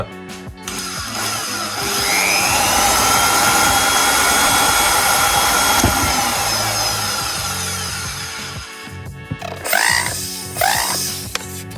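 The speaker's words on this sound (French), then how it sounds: "Et je n'ai que cette énorme perceuse." A large power drill runs steadily at full speed for several seconds in a home setting, loud and continuous, then winds down, followed by a few short bursts near the end.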